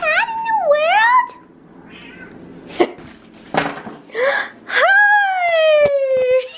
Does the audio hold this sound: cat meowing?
yes